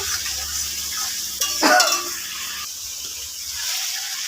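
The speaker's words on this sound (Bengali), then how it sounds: "মশলাটাকে আমি ভালোভাবে নেড়ে চেড়ে নেব।" Spices with salt and turmeric are stirred through frying potatoes in a pan, giving a steady close sizzle under scraping spoon strokes, with a sharper clatter and scrape partway through.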